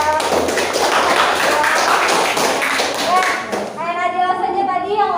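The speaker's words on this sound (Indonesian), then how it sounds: "tepuk tangan buat Nadila" Children in a classroom clap for a classmate, a lively spatter of hand claps and taps mixed with young voices, giving way to someone speaking near the end.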